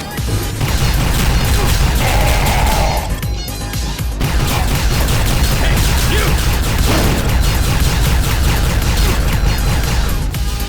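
Enemy plasma weapons fire in the shooter game Mace Griffin: Bounty Hunter: a dense, loud, continuous barrage of shots, bursts and crashing impacts with no letup.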